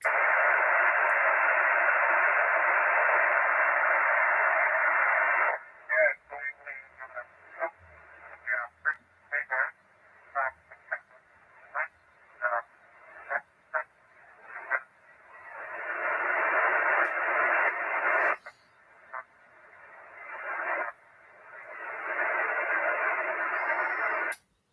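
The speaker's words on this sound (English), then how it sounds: "I do hear you attempting a QSO, but your transmission is somewhat broken." Broken single-sideband amateur radio signal on UHF/VHF, steady hiss and static broken by rapid choppy bursts and dropouts, with garbled voice fragments fading in and out.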